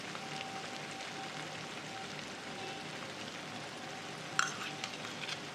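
Curd goes into hot oil-rich masala gravy for dhaba-style paneer masala, giving a steady dense sizzle and frying crackle throughout, with a sharp splash and brief louder spatter near the end.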